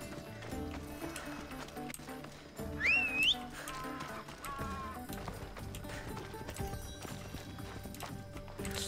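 A horse in the video game Assassin's Creed Odyssey clip-clops at a steady rhythmic gait and lets out a clear, rising neigh partway through, set against game music.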